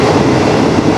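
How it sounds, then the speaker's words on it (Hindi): A train travels at speed through Thailand on the way to Ayutthaya, a loud, close, continuous rumble of wheels and carriage noise filling the moment without any voices. "ट्रेन की स्पीड बढ़िया है।"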